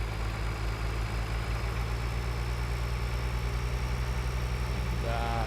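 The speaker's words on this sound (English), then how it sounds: "So I'll move this tractor out of the road quickly." A tractor engine idles in the Farming Simulator 2013 video game, a steady low mechanical drone with an even throbbing pulse that holds unchanged throughout.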